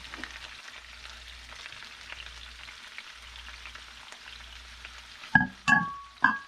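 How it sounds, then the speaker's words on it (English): Satay vegetables sizzle steadily in a hot pan, then a few sharp clanks of a utensil against the pan mark the stirring near the end. "give it a good mix."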